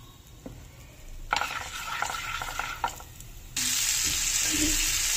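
Amla pickle mixture with jaggery pieces frying and being stirred in a pan, with scraping stirs in the first half, then a loud, steady sizzle taking over, with no talking.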